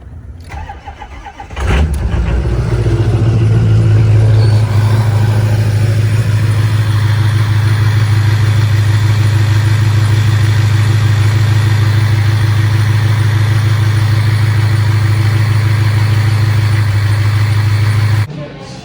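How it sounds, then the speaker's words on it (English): A truck engine cold-starts after sitting unused for a couple of days: a brief cranking burst, then the engine catches and settles into a loud, steady low idle that runs close and continuous before cutting off. "Cold start. This hasn't been started in like a couple days."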